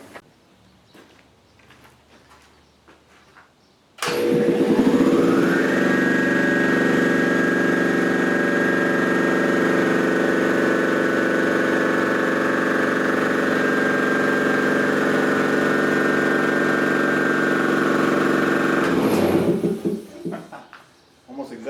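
An Ingersoll Rand T30 2475N7.5 air compressor, a project unit, starts up and runs loud and steady for about fifteen seconds with a rhythmic mechanical drone, then shuts down, with faint background noise before and after.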